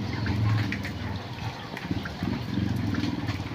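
Water flows back toward a canal in a residential area, a continuous rushing and gurgling wash at moderate level with faint voices in the background.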